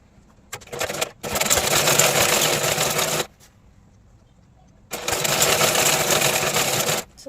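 A tailoring-class sewing machine stitches along a saree in two long bursts of fast, steady whirring and clatter, separated by a short quiet pause, close and loud with no talking.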